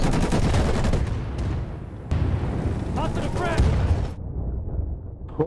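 A grenade detonates in the Insurgency (2014) PC shooter amid a dense stretch of gunfire and combat noise, the blasts loud and close, with a player's voice talking over the chaos.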